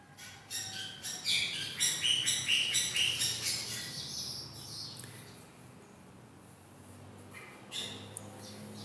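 Birds in an aviary cage, a pair together low down: a run of repeated chirps and squawks building over several seconds, fairly close, then fading to quieter calls with one brief burst near the end.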